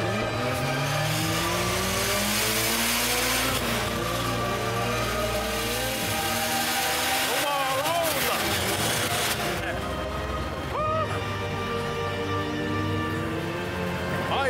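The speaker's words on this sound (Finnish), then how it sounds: "kaasu pohjassa, ahtopaine nostaa liikkeelle, sen jälkeen uutta matua koukkuun" A Moskvitch car with a turbocharged engine and a Jericho gearbox revs hard and accelerates at full throttle, a loud, sustained engine roar with rising and shifting pitch sweeps that runs throughout.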